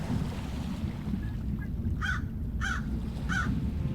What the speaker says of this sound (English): Where are you birds at?